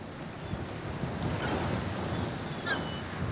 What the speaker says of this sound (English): It means being able to hear the surf and see the rocks.